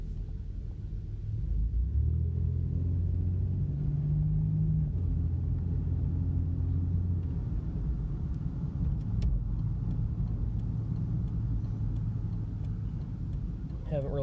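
A 1992 Plymouth Voyager van drives along a street with a steady low engine and road rumble, carrying an unidentified noise. Faint voices and cabin sounds come and go over the drone.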